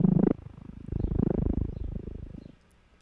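A granular synth layer for a Dune shield sound effect gives a short burst followed by a low, grainy, rapidly fluttering rumble resembling a purr, swelling and then cutting off after about two and a half seconds, fairly quiet.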